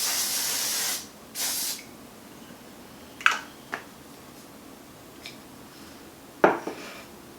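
A makeup setting spray mists onto a face in two short, close hissing bursts, followed by quieter clicks and light taps, with no talk.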